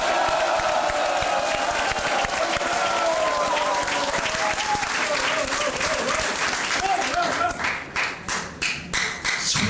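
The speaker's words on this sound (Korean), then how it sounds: "우렁찬 함성과 박수로 서로를 격려하십시다." Large crowd at a rally in Jeonnam gives sustained loud applause with cheering shouts, dense and continuous for most of the stretch, then thinning into separate claps that fade toward the end.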